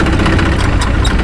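A tractor engine idles at a sugarcane weighing and loading centre, giving a steady, close, rumbling drone that holds even and unbroken throughout.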